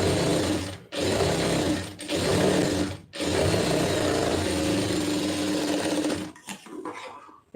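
A sewing machine stitches plain blouse lining cloth in steady, loud, close runs, broken by three brief stops before it winds down at the end.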